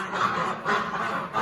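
Ducks in a barn give a quick run of loud, nasal quacks, three close calls in under two seconds.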